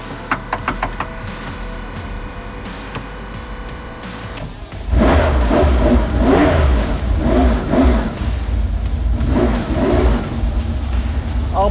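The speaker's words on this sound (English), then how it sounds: "So ignition on." A Ferrari 512 M racing car engine starts after a few cranking clicks, then bursts into loud, close revving with repeated rising and falling throttle blips.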